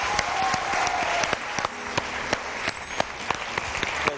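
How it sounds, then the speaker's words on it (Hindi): Studio audience at a Pakistani televised singing competition breaks into sustained applause, dense steady clapping filling the room with a few sharper claps standing out. "आप लोग की भरपूर तालियों में"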